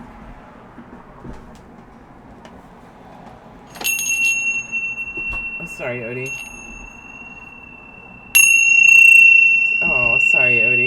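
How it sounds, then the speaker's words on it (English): A hand bell is rung twice to cleanse energy, each strike giving a bright, clear ring that sustains and fades, with a person talking between and over the tones. "I would have used my smaller bell"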